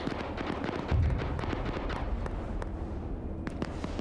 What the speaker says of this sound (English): then send in more artillery